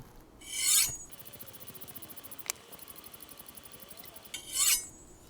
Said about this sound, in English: I'll do 20 more strokes on each side of the blade